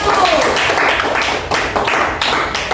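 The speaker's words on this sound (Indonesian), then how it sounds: "Berikan dulu tepuk tangan untuk kelompok 1" Children in a primary school classroom clap for the first group, a dense patter of hand claps sustained throughout at close range, with a teacher's voice speaking over it.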